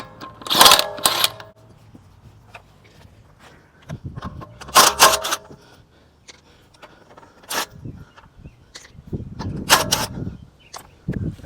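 Lug nuts come off a 2014 Dodge Journey AWD wheel in short, loud ratcheting bursts of clicking, separated by quieter gaps with faint clinks and handling noises.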